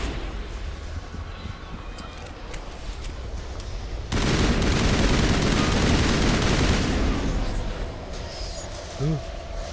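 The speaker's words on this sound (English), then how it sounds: "As I shoot my ally" Rapid bursts of gunfire in the video game Mass Effect, a dense loud volley erupting partway through after a quieter stretch, continuing for several seconds before easing off.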